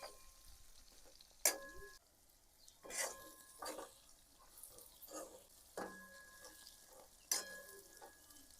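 Stuffed whole okra frying in hot oil in a pan, with a soft sizzle and several sharp clinks and scrapes of a stirring spoon against the pot at irregular intervals, near and fairly quiet.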